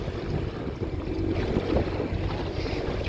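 A boat cruises slowly and cautiously out to sea off Western Australia at night on a shark fishing trip, a steady low engine rumble mixed with wind buffeting the microphone and faint water wash.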